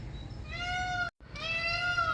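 Two drawn-out, nasal goose honks sound close by, one after the other, over a low rumbling outdoor background.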